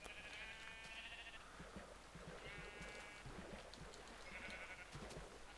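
Sheep bleat repeatedly in Minecraft, penned in behind rings of trapdoors. Several wavering bleats overlap at close range over a dense bed of clattering game noise, with no talk.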